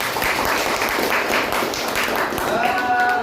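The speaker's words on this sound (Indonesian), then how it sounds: "Tepuk tangan buat kita semua" Classroom applause during a practice teaching lesson, a dense steady patter of clapping hands lasting throughout, with a voice starting to speak near the end.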